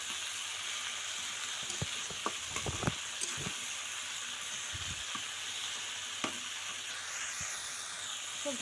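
Food sizzles as it fries in an old kadai with broken handles, with soft hiss throughout and intermittent scraping and clinking as it is stirred, close and moderately quiet.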